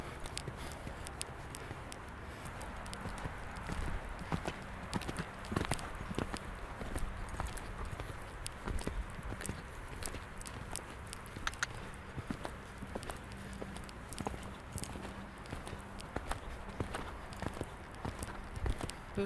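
A horse walks in a riding arena during a lesson, its hooves clip-clopping in a steady, continuous rhythm at moderate distance over a low background rumble.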